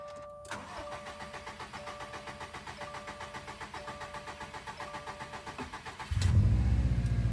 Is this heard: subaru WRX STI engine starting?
yes